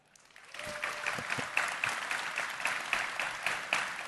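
A packed house in Nashville at a Bitcoin panel claps in response to a show-of-hands question, loud dense applause starting abruptly after a brief quiet moment and continuing steadily.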